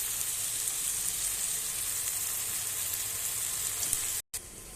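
Jackfruit pieces fry in a spice base with a steady, even sizzle that runs throughout, then cuts out briefly near the end before resuming.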